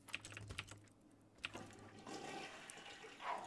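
A toilet in The Sims 2 video game flushes with a rushing swirl of water that swells and fades, after a few soft clicks like keyboard taps, with no one talking.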